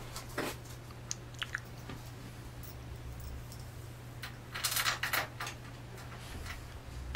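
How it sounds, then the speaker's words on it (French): A utility knife lightly scoring adhesive tape on a bandsaw cabinet, followed by the tape being peeled away: short ticking cuts and clicks early on, then a louder burst of crisp tearing and crackling near the end, close up, with no talking. "Bon, un petit coup de cutter léger, et puis on va retirer l'adhésif."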